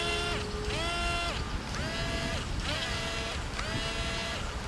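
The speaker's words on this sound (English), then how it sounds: "So this motor spins up not as strong." Electric motors of a Diamond DA62 RC airplane, one side weaker than the other, spinning up and down in repeated whining sweeps, a rising and falling tone that comes in four cycles, loud and close over wind noise.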